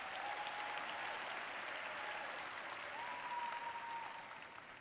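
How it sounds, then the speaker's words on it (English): An audience at a business training event claps steadily, a moderate even round of applause that fades a little near the end, with a faint tone drifting beneath. "So please give yourselves a round of applause."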